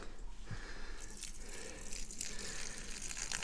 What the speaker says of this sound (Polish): przechylić i wypuścić całą wodę